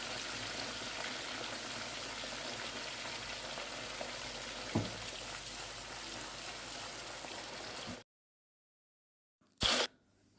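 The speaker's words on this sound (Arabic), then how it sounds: "مين بقى زيي بقى بيحب ريحه بيحب الصوت بتاع الزيت؟" Potato pieces frying in moderately hot oil, a dense, steady sizzle close up that runs for about eight seconds and then cuts to near silence, followed by a brief burst of noise.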